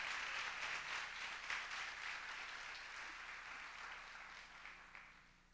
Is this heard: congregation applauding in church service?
yes